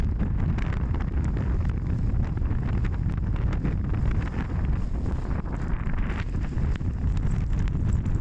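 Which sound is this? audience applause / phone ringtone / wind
wind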